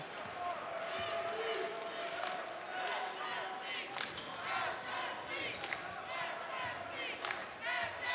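Basketball arena crowd at a Saint Mary's home college game against Utah State, a steady roar of cheering and yelling with sneaker squeaks, under a commentator's talk.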